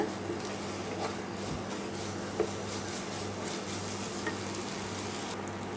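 Ash gourd halwa is stirred in a pan, with a continuous soft sizzle and gentle scraping of the spoon, steady and moderately quiet.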